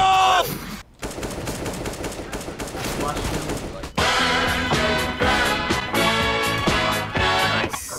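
Bursts of gunfire ring out in Counter-Strike: Global Offensive, a loud shot early followed by sustained rapid automatic firing mixed with game music-like tones and effects, with no one speaking.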